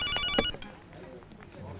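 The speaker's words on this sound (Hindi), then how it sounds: "ओ मेरी डार्लिंग का फोन है।" A mobile phone rings with an incoming call, a short bright repeating tone that cuts off after half a second, followed by faint room noise and quiet voices.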